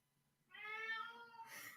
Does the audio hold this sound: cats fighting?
yes